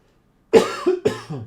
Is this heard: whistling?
no